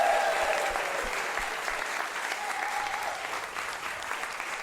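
Theatre audience applause in a Sydney comedy venue, steady dense clapping from a crowd filling the room, fairly soft and sustained throughout without any voices.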